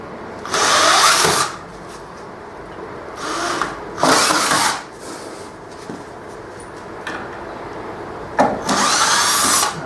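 A power drill backs screws out during a renovation in short bursts of a second or so, loud and close, with quieter pauses between each run.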